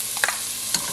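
Onions sauté in olive oil for lasagna soup, a soft steady sizzle with a couple of quick stirring scrapes in one short burst.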